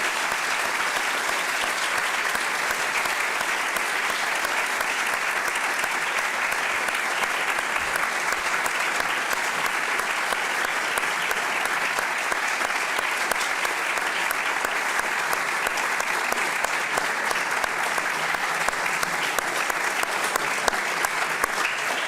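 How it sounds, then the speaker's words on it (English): Audience applause at a Princess of Asturias Awards meeting with students: sustained, dense clapping from a room full of people, steady and loud throughout with no speech over it. "I request you a close applause."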